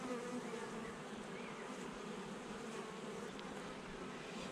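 A honeybee swarm buzzes steadily on a hive frame, a dense, continuous drone that stays close and even throughout with no pauses and no talking.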